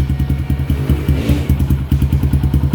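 A Kawasaki KLX 140 dirt bike engine idles steadily just after starting without choke, its close, loud, rhythmic low thumping chugging on evenly with a brief wavering in the middle.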